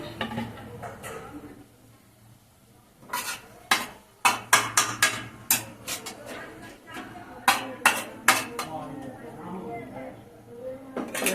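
Malabar spinach is stirred in a pan, with a run of sharp clinks and scrapes of a utensil against the metal over a faint background hum and a soft voice at times.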